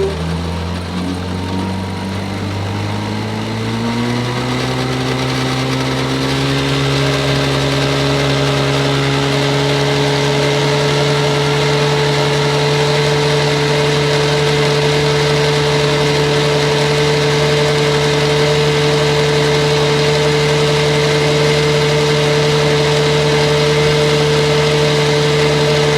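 A 1956 Johnson 7.5 horsepower outboard motor on a boat on a lake revs up over the first few seconds, then holds a loud, steady drone with a constant whining pitch, close by and running alone.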